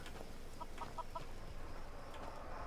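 A few soft chicken clucks in Skyrim in quick succession over a steady ambient hum, faint and somewhat distant.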